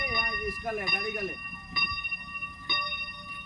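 A school bell rings out in several struck strokes, each a bright ringing tone with lingering overtones that decay between hits, heard under someone speaking loudly over a vehicle-mounted loudspeaker.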